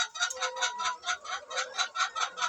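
Chickens clucking in a small backyard poultry flock of laying hens, a steady run of short rhythmic clucks close by, with no talking.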